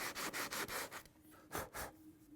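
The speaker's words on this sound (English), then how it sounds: "You sand it a little bit, you take a peek at it and blow the dust away, you pick up your sandpaper again and go at it a little bit more" Hand sanding of a painted wooden work skiff hull with sandpaper: a quick run of close, rhythmic rasping strokes, a brief pause, then two more firm strokes, with no talking.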